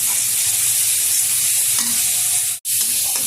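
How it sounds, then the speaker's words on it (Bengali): Spice paste with green chili paste and salt stir-fried in a pan for potato curry, a loud, dense, continuous sizzle with stirring scrapes, broken only by a momentary cut near the end. "ভালোভাবে আমি এবার কষিয়ে নেবো মশলাটা।"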